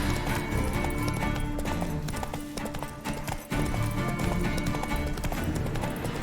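A horse gallops in The Witcher 3, rapid rhythmic hoofbeats clattering continuously and loudly, briefly thinning mid-run before resuming at full pace.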